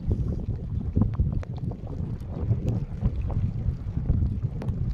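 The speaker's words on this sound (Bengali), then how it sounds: "খুবই বাতাস আর বৃষ্টি আসলো" Strong wind buffets a fishing boat on the Brahmaputra river in a steady, loud roar against the microphone, with rough low rumbling and no clear rain patter.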